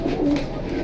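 A brief low pigeon coo, a thor-type bird kept among pairs of pigeons for sale, sits under a steady background hum for under a second.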